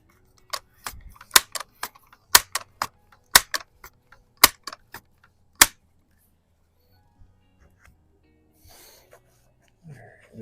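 A scoped Crosman Vapor Max air rifle shoots at spinner and splatter targets: a series of sharp, crisp snaps and clicks in uneven succession, followed by near silence and faint movement noise.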